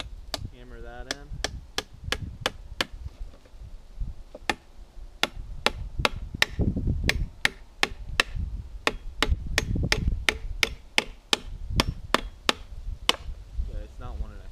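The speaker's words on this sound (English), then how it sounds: "Okay, it's not wanting to hammer in very well, and I'm kind of bending the nail." Outdoors while building a squirrel trap set, a hammer strikes a nail in sharp, irregular blows, about two dozen clear knocks with uneven pauses, sometimes clustered quickly, with a person talking between and under them and a light breeze.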